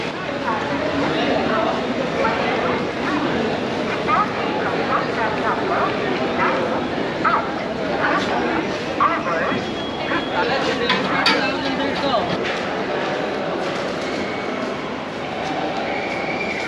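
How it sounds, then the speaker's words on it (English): Busy outdoor street ambience outside a railway station in Bangalore, India: steady traffic rumble, crowd murmur and scattered voices, with occasional horns and a dog barking in the mix. "Here's a glimpse of the vibe outside the railway station here."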